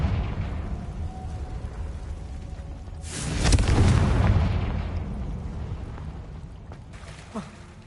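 A Confringo blasting spell from Hogwarts Legacy goes off as one loud booming explosion with a rushing burst that fades over several seconds, over a low game ambience.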